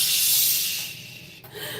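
A voice makes a loud, steady hiss to imitate a spray can. It is one sustained breathy spray of under two seconds that fades at the end.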